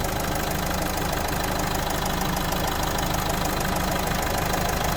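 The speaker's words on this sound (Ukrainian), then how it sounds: "Ви чуєте роботу двигуна." A 2017 Opel Movano refrigerated van engine idles steadily up close, a dense continuous rumble with a faint rhythmic knock, unchanging throughout.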